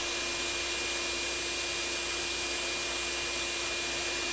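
Shop vacuum running with a steady, loud whine and hiss while cleaning the parts of a GE/AO Smith 1-1/8 hp electric motor, its spring included, without any pauses or speech.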